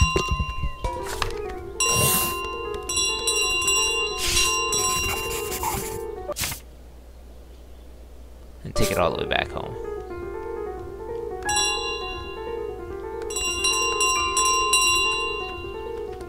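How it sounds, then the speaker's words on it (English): A bell carried by the goose in Untitled Goose Game rings in repeated bright dings and jingles alongside game music, with a pause partway through before the ringing resumes, under someone talking. "They're not gonna want me to take this bell."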